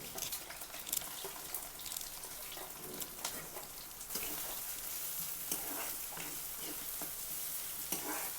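Green chillies and onion fry in a little hot oil in a home kitchen, a steady bubbling sizzle throughout, punctuated by occasional clicks and scrapes of stirring.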